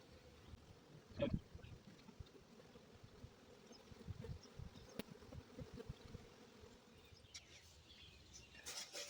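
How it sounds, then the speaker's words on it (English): A honeybee swarm being hived outdoors gives a faint, steady buzzing hum that continues through the whole stretch, with occasional louder passes of individual bees close by. "get these bees moving in here"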